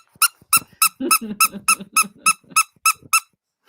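A squeaky dog toy squeezed rapidly, about eleven sharp, high squeaks in a steady rhythm, close and loud, with a voice talking underneath partway through.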